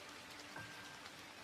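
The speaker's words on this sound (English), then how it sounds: "Here's rain on window footage." Rain falls on a window glass as a steady soft hiss of droplets, faint and continuous with no individual hits standing out and no voices.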